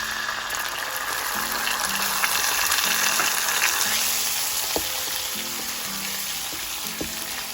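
Tomato puree hisses and sizzles in a kadhai over garlic and ginger that have browned, a steady close frying noise with a few clinks of a spoon against the pan.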